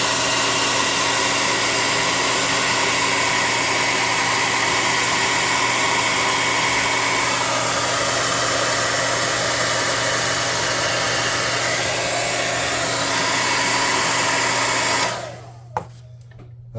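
A hair dryer blows a loud, steady hum for about fifteen seconds to dry freshly painted faces on tabletop miniatures, then cuts off abruptly with a clunk near the end.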